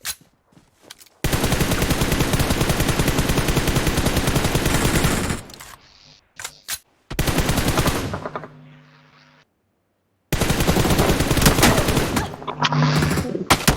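Gunfire rattles in sustained automatic bursts during a fight in the video game BGMI, loud and dense, with short gaps between three long volleys.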